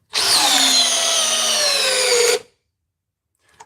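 A very old DeWalt cordless drill running on a PowerStack battery whirs at a steady high pitch for about two seconds, loud and close, then cuts off abruptly into silence.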